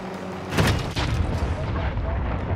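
Gunshots and booming blasts from a match in the video game Call of Duty: Modern Warfare, a sharp burst followed by sustained rumbling combat noise at moderate level.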